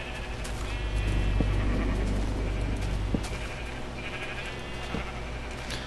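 Several short sheep bleats from Minecraft, spread across the scene as the flock is herded, over a steady low game hum with a few faint clicks.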